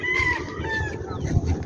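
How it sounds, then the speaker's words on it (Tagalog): Chickens and chicks at a farm in Bacolod cluck and cheep in a short, busy burst, several birds close by over a noisy background. "Bisitahin natin yung mga sisiw ni Big Boss."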